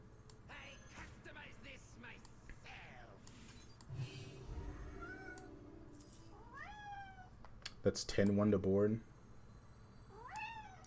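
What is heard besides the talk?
cat meowing for attention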